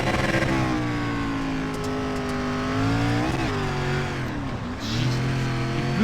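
An SRX race car racing on dirt in iRacing roars loudly, its engine revs climbing and dipping with throttle changes and gear shifts across a continuous run, no voices present.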